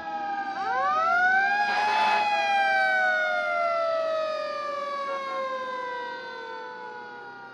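An emergency vehicle siren wails loudly and alone, its pitch rising sharply then sliding slowly downward in a long sustained sweep near a roundabout.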